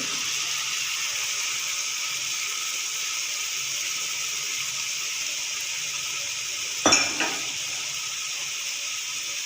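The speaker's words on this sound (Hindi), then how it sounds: "अब मैं इसके अंदर गोभी शामिल कर रही हूँ।" Cauliflower dropped into a pan of fried spices for an aloo gobi methi sabzi: a steady, soft sizzle runs throughout, broken near the end by a brief clatter as the pieces go in, with no talking.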